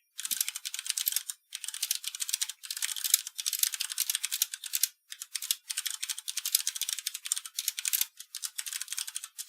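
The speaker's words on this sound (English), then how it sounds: "Sorry for the typing, guys." Fast typing on a computer keyboard in quick clattering bursts separated by brief pauses, thin and clicky, close and fairly quiet, with nothing else audible.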